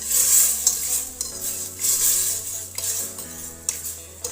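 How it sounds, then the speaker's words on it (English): Spoon scraping and clinking in a pot as onions, chilies and garlic are stirred while braising, close and fairly loud rhythmic strokes over a soft sizzle. "I'll just add in 1 tablespoon of garlic, and then I'll mix it together,"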